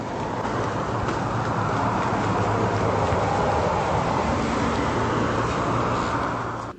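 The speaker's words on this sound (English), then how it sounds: "a car appears to drive near the property off camera, casting light into the yard" A car passes near a property at night, a steady broadband road rumble and hiss filling the whole stretch at moderate level with no voices over it.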